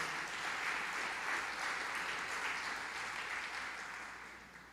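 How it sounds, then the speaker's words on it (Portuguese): A church congregation claps together in sustained, even applause that is fairly distant and fades gradually toward the close, with no speech over it. "Dê uma salva de palmas para ele"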